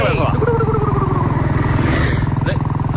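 A motorcycle carrying two riders in a film scene runs with a steady, throbbing engine pulse that stays close and loud throughout, mixed with voices talking.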